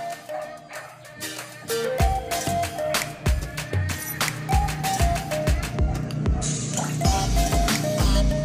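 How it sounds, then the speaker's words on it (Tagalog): Zonrox bleach is mixed into drinking water for backyard chickens, with a run of wet drips, splashes and sloshing knocks that land irregularly and close by over a steady liquid background. "Halo po yung Sonrox dito sa tubig."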